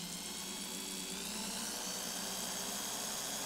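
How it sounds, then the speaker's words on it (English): A power drill runs steadily to spin Clapton coil wire for vaping, giving a constant high-pitched motor whine close by with no breaks for several seconds. "You just start your drill. I'm going to be going clockwise. I'm just going to let it run."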